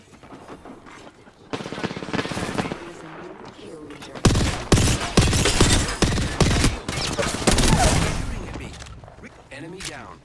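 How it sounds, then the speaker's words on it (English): Enemy gunfire from Apex Legends crackles in dense automatic bursts, loud and sustained with sharp impacts, while game voice lines and player talk sit under the shooting. "They're shooting at me."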